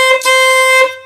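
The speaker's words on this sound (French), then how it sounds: "c'est juste un avertisseur sonore qui permet de faire les débuts de partie ou les fins de partie" A paintball air horn signaller, used to mark the start and end of games, is sounded indoors in a garage. It gives one loud, sustained blast of about a second, then stops.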